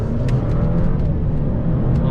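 An Alfa Romeo car accelerating, with a steady, loud engine drone and rumble that stays close and continuous throughout, with no talking over it.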